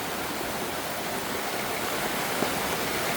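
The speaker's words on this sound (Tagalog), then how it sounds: "Lakas po ng ulan" Heavy rain pours steadily as a dense, continuous hiss with no breaks, fairly close and evenly loud throughout.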